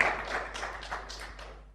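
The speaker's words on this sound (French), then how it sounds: "On applaudit après aussi." A conference audience claps in a short burst of fairly close, rhythmic applause that fades slightly toward the end.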